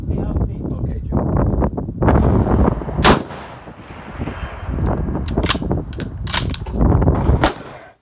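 Rifle shots at an outdoor range strike steel silhouette targets, four or five sharp, loud cracks spaced a second or two apart, with people talking between them and wind buffeting the microphone.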